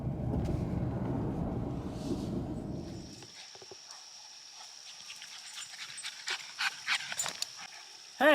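A dog that has just gone through a pond on a hike in the Catskills pants in quick, breathy bursts close by, following a stretch of low rumbling noise, with a faint steady hum underneath.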